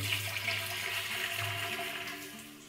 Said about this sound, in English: to sanitize this keg, we will put 5 litres of boiling water in here